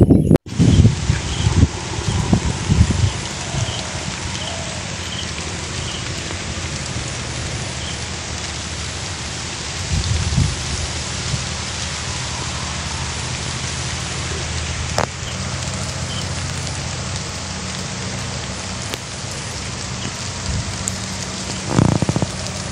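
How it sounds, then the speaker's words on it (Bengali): Heavy storm rain pours steadily across the whole stretch during a flood in Patuakhali district, Bangladesh, a dense continuous hiss with occasional louder gusts and thumps, no voices heard. "ঝড় বৃষ্টি এবং বন্যায় আমাদের পটুয়াখালী জেলার কি হালচাল, কি অবস্থা"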